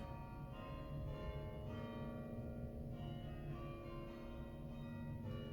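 Church bells peal continuously, several bells ringing in overlapping rhythmic strokes, somewhat distant and fairly quiet, with no talking.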